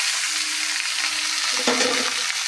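Chopped vegetables for pakora hit hot oil and fry with a steady, close, bright sizzle that swells briefly midway, with no voices.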